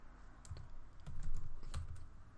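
Keystrokes on a computer keyboard, a quick run of soft clicks close by while entering text into a search page, with no voices.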